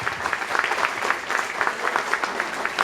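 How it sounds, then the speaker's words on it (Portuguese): Audience clapping at a plenary meeting of the Porto Alegre FMDCA council, a steady round of applause lasting a few seconds with no voices over it. "Vou dar uma salva de palmas"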